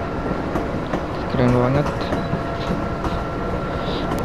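Argo passenger train passing at Jakarta Kota station in Indonesia, a steady loud rumble of wheels and carriages throughout, with a brief horn-like tone midway and a person speaking briefly over it.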